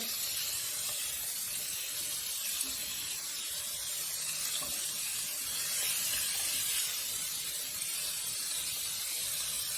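Prawns sizzling in a hot pan for honey chilli garlic prawns, a steady bright hissing fry that holds even and close for the whole stretch with no talk over it.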